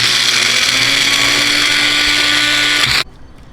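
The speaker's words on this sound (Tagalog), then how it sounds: "umpisahan na po natin ang pagbe-blender" A blender grinding peanuts into peanut butter runs loud and steady for about three seconds with a high grinding whir, then cuts off abruptly.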